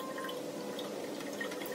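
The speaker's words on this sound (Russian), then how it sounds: "Булькает, булькает. Теперь будем по утрам пить кофе" A drip coffee maker bubbling and gurgling as it brews, a faint, steady low burble with soft drips throughout.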